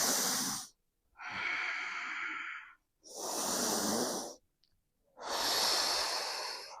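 Slow, deep breathing during a yoga exercise, with long airy inhales and exhales in four drawn-out breaths separated by short pauses, close and clear.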